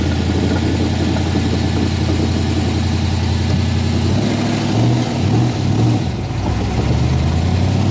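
An all-original 1964 Shelby AC Cobra with its 289 V8 running close up, a steady loud idle that swells into a few throttle blips and revs in the second half before settling back.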